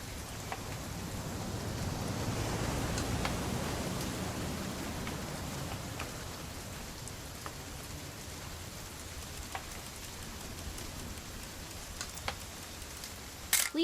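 Rainfall in What Remains of Edith Finch, a continuous close hiss of drops on surfaces, swelling slightly early on and then settling, with a few sharper splashes and a low rumble beneath.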